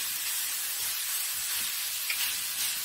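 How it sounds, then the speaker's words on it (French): Pork ribs brown in a hot pan for caramelised Hong Shao spare ribs, giving a steady, close, bright sizzle with soft crackles and no talking. "On fait dorer ça bien comme il faut."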